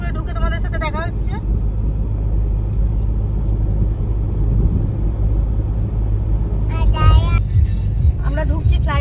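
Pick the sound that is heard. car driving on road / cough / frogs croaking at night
car driving on road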